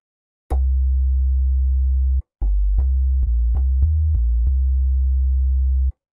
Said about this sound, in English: that's kind of your most basic and a fairly common sub bass